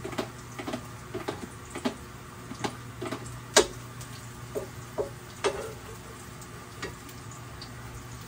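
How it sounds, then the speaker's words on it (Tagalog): Garlic sautéing in a pan, a faint, low sizzle broken by irregular sharp clicks and ticks of a utensil tapping and stirring, with no talking. "At magigisa na tayo. Siyempre bawang."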